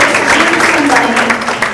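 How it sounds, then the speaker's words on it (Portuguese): An audience breaks into a round of applause for Nuno Lopes at a presentation event: dense, steady clapping that fills the room throughout, with crowd noise mixed in. "Uma salva de palmas para Nuno Lopes."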